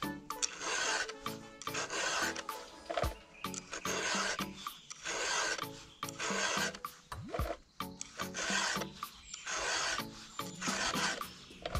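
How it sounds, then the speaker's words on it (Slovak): Teeth of a Stihl MS 462 chainsaw chain are sharpened with a hand file in a steady run of rasping strokes, each short gritty scrape separated by a brief pause, heard close and alone. "Počítať si tie ťahy, aby to bolo rovnaké, a ten istý tlak vyvinúť na ten zub pri brúsení."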